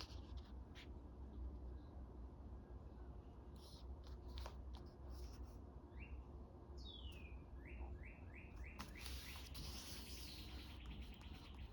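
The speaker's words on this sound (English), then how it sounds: "I hope you can hear that bird." A bird sings outside near a crafting table, its quick chirps and short whistled phrases faint and distant over a steady low background hum, with scattered soft rustling and tapping nearby.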